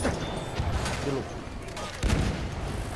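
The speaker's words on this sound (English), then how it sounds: "Emang enak pakai mortar." Mortar fire in Battlefield 1 Conquest: muffled launch thumps and a heavier boom near the end, set in a steady din of battlefield gunfire.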